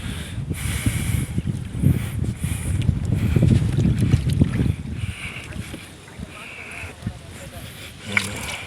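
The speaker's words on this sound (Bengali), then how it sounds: "এই সামনে এই গাছগুলির সামনে এই পদ্মা নদী, এর জন্য বাতাসটা প্রচুর।" Strong wind gusts across a microphone on a boat out on the Padma river, a broad, loud, rushing roar that surges steadily for several seconds before easing into a lighter buffeting hiss.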